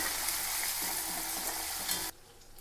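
Curry leaves, onion, garlic and ginger fry in a hot pan with a steady, close sizzle and crackle, with some stirring, for about two seconds before the sound drops away sharply.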